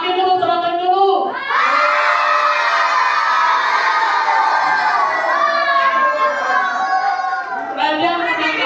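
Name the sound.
children cheering and shouting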